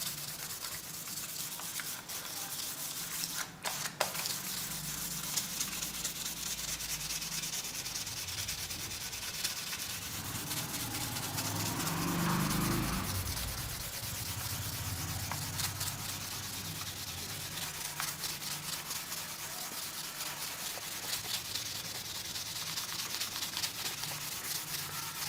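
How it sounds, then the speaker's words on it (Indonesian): Sandpaper rubbed over a PCB with a steady, continuous scratchy rasp that is close and even throughout, with no talk. "Oke, sementara kita gosok PCB-nya, amplas,"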